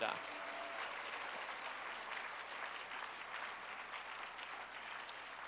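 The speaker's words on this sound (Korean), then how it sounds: "give the Lord a hand for this" Sustained applause from a church conference crowd, steady clapping filling the room for several seconds without a break.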